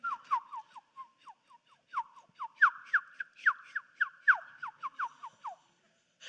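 A man imitates a bird chirp with his voice, a rapid run of bright whistled descending chirps in uneven bursts, loud and close with nothing else beneath them.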